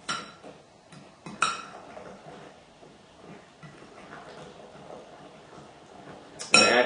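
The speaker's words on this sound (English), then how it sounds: "And so I will stir and mix these items all up." A spoon clinks and scrapes against a bowl in short, irregular bursts while pecan pie filling is stirred and mixed, with quiet gaps between strokes.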